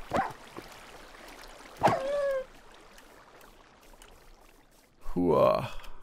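A dog in Minecraft gives a few short yips and whimpering cries, spaced apart over a quiet background, with a louder burst of whining barks near the end.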